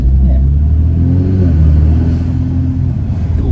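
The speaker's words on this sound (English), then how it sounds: "it seems to be making little whirring noises, even when it's not. When it's just coming on boost" A VW Scirocco R fitted with a Revo induction intake pulls under boost, the engine rumble strong and close with a faint whirring rising over it as boost builds, then easing off.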